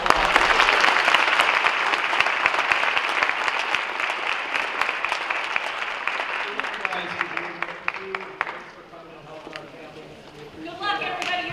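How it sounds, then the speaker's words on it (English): Audience applause at a high school junior night counselor presentation, loud broadband clapping that fills most of the clip, then fades out as a voice begins talking near the end. "let's give them a round of applause"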